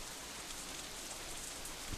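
Rain from the visual novel Katawa Shoujo falls as a soft, steady hiss, quiet and even with no voices over it.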